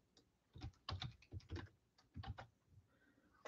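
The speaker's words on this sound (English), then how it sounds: "Start typing in here." Typing on a computer keyboard during a live card break auction, with bursts of close, irregular key clatter separated by short pauses and no talking.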